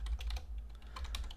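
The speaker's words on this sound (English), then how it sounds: "why am I typing it?" Rapid keystrokes clatter on a computer keyboard in quick irregular bursts, close and distinct, with no talking over them.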